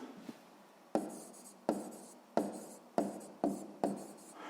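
Pen strokes scratch across paper as a math solution is written down, six quick bursts each starting sharply and trailing off, close and fairly quiet with no talk over them.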